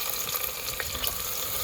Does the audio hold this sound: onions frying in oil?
yes